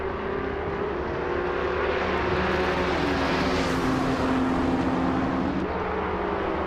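Race cars launching at the start of a video game race at Black Cat County Intermediate, including a 1993 Ford Mustang SVT Cobra, with loud sustained engine drone rising and shifting in pitch as they pull away.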